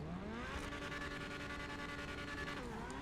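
Engine of a Grotti Stinger TT in GTA Online revving and holding a sustained, droning pitch with rising and falling harmonics, steady and close with no talking.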